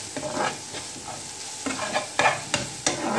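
Dry masala fries with softened tomatoes in a pan for dabeli, a spatula scraping and stirring in repeated strokes over a soft, steady sizzle, close and alone.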